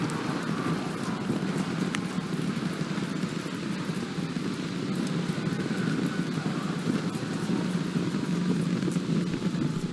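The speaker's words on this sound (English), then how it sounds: "30 seconds into flight, we are feeling the rumble. We are seeing 33 out of 33 Raptor engines ignited on the Super Heavy booster." A SpaceX Starship Super Heavy booster with all 33 Raptor engines burning sends a steady, distant, low rumble that crackles faintly and never lets up.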